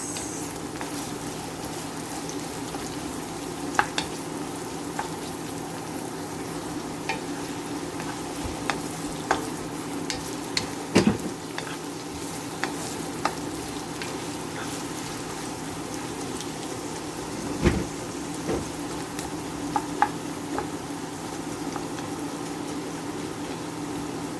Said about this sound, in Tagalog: haluin natin mix and mix